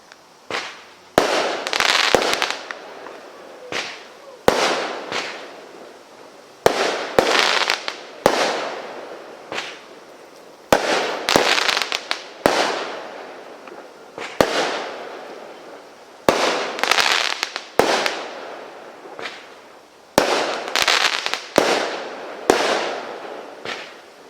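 Retail fireworks fire in rapid volleys during a sale-day demonstration outdoors, loud repeated bangs and crackling bursts grouped in clusters close by, with no voices.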